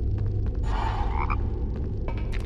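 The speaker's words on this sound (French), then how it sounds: "Il y a un bruit de grenouille en tout cas." A frog croaks in a Harry Potter video game: a short burst of raspy croaking over a loud, steady low rumble of game ambience, with a few faint clicks around it.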